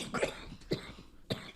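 A man coughs repeatedly at close range, three harsh bursts about half a second apart.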